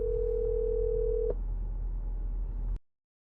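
Steady single-pitch dial tone of a phone call routed through a wireless CarPlay adapter over Bluetooth in a car, holding for about a second and a half before cutting off, then quiet hiss until the line drops.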